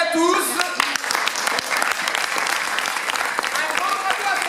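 Audience applause at a theatre festival after a performance, a dense burst of clapping from many hands that holds steady for several seconds, with a voice speaking briefly at the start.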